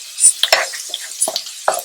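A wooden spoon with holes stirs cooking onions in a pan for a mushroom pasta, with a handful of close, distinct scraping and clacking strokes over a light sizzle.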